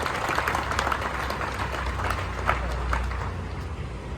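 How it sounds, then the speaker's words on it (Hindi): Steady, dense applause from an audience welcoming a guest at a fire fighter's world record event, a continuous wash of clapping heard from within the crowd without pauses. "एक बार जोरदार तालियां और स्वागत करेंगे"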